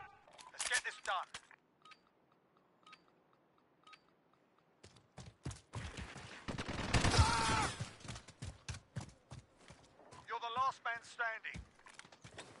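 Video game gunfire comes as sharp, scattered shots and clattering bursts, loudest in a dense stretch near the middle, with voices talking over and between them.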